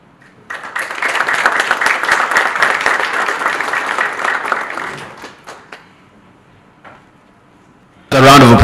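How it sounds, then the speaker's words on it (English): Audience applauds after a talk at a peering forum in Kenya, a dense burst of clapping lasting several seconds before thinning out, followed by a voice over the sound system. "A round of applause for him."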